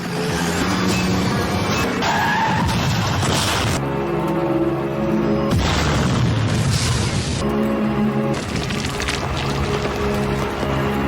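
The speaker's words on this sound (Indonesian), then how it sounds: "Mobil pun kemudian meledak dalam kobaran api." A car crash and explosion in an action film as a truck slams into a reversing car, heard as a series of loud booms, roaring bursts and crunching impacts over a continuous heavy rumble.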